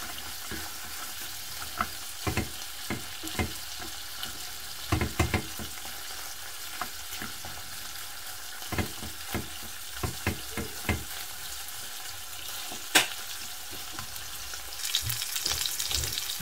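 Salted peppers fry in a pan and are stirred gently, a soft continuous sizzle punctuated by repeated light scrapes and taps of the spoon, close and without voices.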